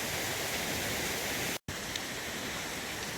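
Floodwater rushes down a hillside street after a burst, a steady broadband hiss of running water, continuous and moderately loud apart from a momentary dropout midway.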